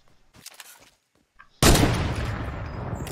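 Fortnite gunfire hits as a sudden loud burst of rapid shots that keeps rattling and slowly fades, coming after a few seconds of quiet, scattered voices.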